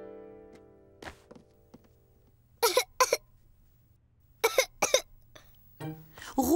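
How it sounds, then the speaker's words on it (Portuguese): A cartoon child sick with the flu gives short, hoarse coughs in close pairs, forming three clusters separated by quiet gaps, after a brief tonal sound at the start. "O Ruca sentia-se quente e estava a tossir."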